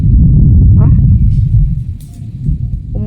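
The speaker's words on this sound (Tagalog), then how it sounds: "Kumukulog, nagbadyang ulan." Thunder rumbles low and steady before rain arrives, a deep continuous roll that swells and fades slightly while people talk over it nearby.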